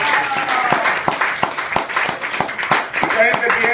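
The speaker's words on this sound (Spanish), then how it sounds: "¿Cuánto le damos un aplauso a Jesucristo?" A church congregation applauds during a sermon, with rhythmic clapping marked by distinct sharp claps over a backdrop of voices and crowd noise.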